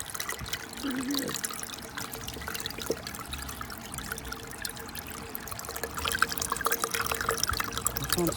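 Water trickles and dribbles steadily through rainwater filters over a low mechanical hum from a water pump, growing a little louder toward the end.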